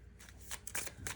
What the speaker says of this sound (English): Let me keep shuffling here.